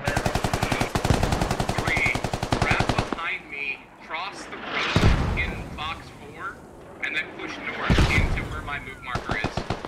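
Mortar and heavy weapons fire in the military shooter game Squad, with rapid automatic gunfire bursts and booming impacts in an almost continuous loud barrage, with voices talking over it.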